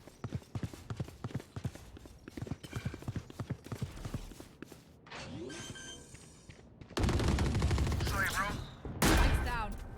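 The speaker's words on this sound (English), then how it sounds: "Well played by the heavy machine gun." Rapid bursts of heavy machine gun fire in a fast online shooter match, sharp repeated shots rattling in clusters, followed by louder, denser blasts and clattering action near the end.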